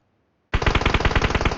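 Rapid automatic gunfire in an online shooter game, a loud burst of evenly spaced shots that starts abruptly after a brief silence and keeps going.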